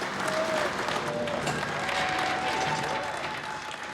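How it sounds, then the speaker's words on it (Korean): A crowd cheers and applauds as the COVID-19 vaccine shipments set off across the United States, a steady wash of clapping and cheering at even volume throughout, with a few faint voices mixed in. "환호가 터졌다"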